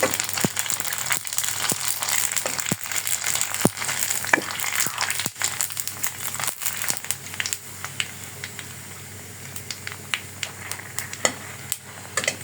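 Round dough pieces frying and puffing in hot oil in a home kitchen, a continuous soft sizzle punctuated by sharp clicks and rattles of a utensil turning them, close and fairly quiet.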